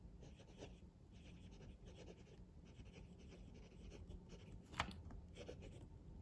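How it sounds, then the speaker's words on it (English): A Wordsworth & Black Primori fountain pen, held unposted, writes on paper with soft, close scratching strokes, faint and continuous with small rhythmic bursts. "Now I am writing with the pen unposted."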